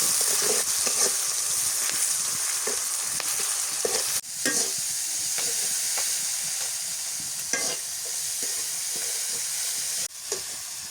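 Onion and chili softening with salt in a hot pan, a loud, dense hiss and sizzle close up, with occasional stirring scrapes and a few sharp shifts in the frying noise.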